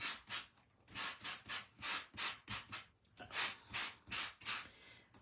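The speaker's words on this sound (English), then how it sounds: "So just very gently taking the sanding block, and being flat means that you're not going to have digs in your page. So just sand that off." A flat sanding block rubs gently over stamped paper cardstock in about a dozen soft, rhythmic strokes that are close and quiet, with no talking.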